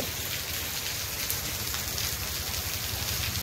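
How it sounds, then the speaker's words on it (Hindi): A downpour of heavy rain hisses and drums constantly on nearby surfaces, loud and unbroken, before cutting off abruptly at the end. "पूरा जोरसोर वर्षा हो"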